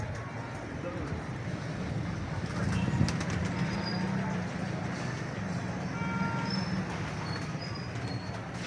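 A pigeon marked with green paint takes off near bird-catching nets in Lahore, its wings giving a soft, brief flutter against a low background rumble, while someone talks over it.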